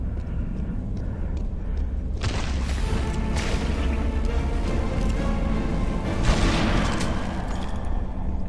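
Heavy shotgun fire in Tomb Raider: Anniversary blasts out in booming, broadband bursts over a rumbling game soundscape, with one strong blast followed by dense, sustained roar and a later swell.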